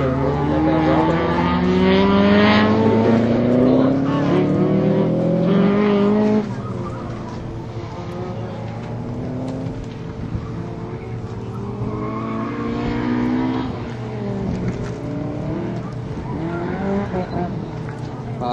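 A race car spins out on the track at an Arizona Solo autocross event at PIR. The engine is loud and close, its revs climbing, then shifting to a ragged, squealing skid with a droning motor underneath.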